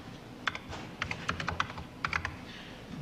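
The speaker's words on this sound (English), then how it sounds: "That's the first time I touched the keyboard." Keys clatter on a 1984 Apple Macintosh keyboard during a live keynote demo, with several short bursts of uneven typing separated by brief pauses, close and clear over a quiet room.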